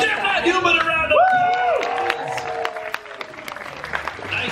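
Theme park audience at the Monsters Inc. Laugh Floor show in Magic Kingdom clapping and whooping for a dancing guest. Loud cheering and applause rise at the start, then settle into steadier clapping under a host's voice.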